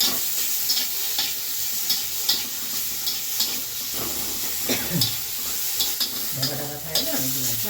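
Chopped tomato fries lightly in a little oil in a pan, a continuous close sizzle and hiss broken by regular scraping stirs with a spatula, with no voices.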